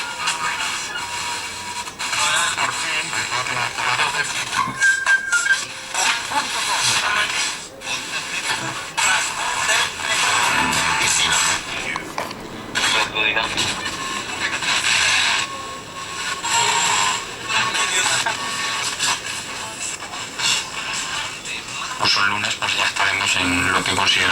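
A Grundig Satellit 3400 Professional receiver plays a noisy, crackling broadcast with shifting static and tuning sweeps, steady and close, while someone talks over it.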